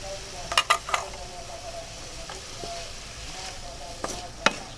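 Shredded cabbage and bell pepper fry in a pan with a constant soft sizzle, broken by a few sharp clinks and scrapes of a utensil against the metal as they are stirred.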